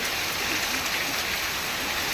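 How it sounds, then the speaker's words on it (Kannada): Steady, dense rain falls in the Malnad countryside, a continuous close hiss with no breaks and no voices over it. "ಮಳೆ ಮಳೆ ಮಳೆ ಮಳೆ"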